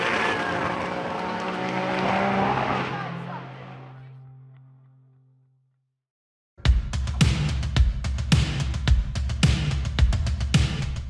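A 1400 horsepower race car climbing Pikes Peak. A sustained tonal wash fades into a moment of silence, then the engine erupts close and loud in rapid pulsing bursts of revs and gear changes.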